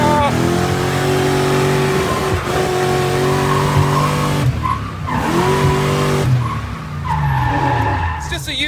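A JDM car accelerates hard through the gears at a car show, its engine revving loud and close with rising pitch sweeps at each shift and a brief tire squeal, people talking faintly underneath.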